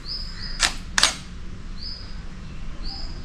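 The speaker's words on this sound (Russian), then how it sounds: "Кое-как приспособил фотоаппарат для пересъемочки." A photo camera set up for rephotographing gives two sharp, close shutter clicks about half a second apart, while faint bird chirps sound in the background.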